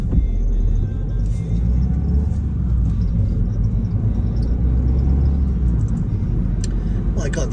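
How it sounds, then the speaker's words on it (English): An old Honda T-Ridge car passing on a city street at night, a steady close engine rumble and road noise filling the whole stretch, heard from inside another vehicle. "This car here on the right of me as I'm passing, that is an old, old car. That's an old T-Ridge Honda."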